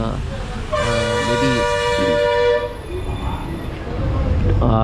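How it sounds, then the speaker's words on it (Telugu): A train horn sounds at Egmore railway station in Chennai, a loud sustained toot of about two seconds followed by station bustle and a low rumble. "ఎగ్మోర్ రైల్వే స్టేషన్ ఇప్పుడు కూడా ఇది చాలా రద్దీగా ఉంటుంది"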